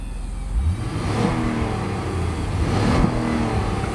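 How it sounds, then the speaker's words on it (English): A 2005 Acura RL SH-AWD VTEC sedan's engine revs up briefly, then settles back to a smooth, steady idle, heard up close and alone. "Revs up nicely, idles smoothly."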